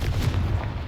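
A Confringo fire-spell blast in Hogwarts Legacy, a short heavy boom with low rumble filling a brief moment.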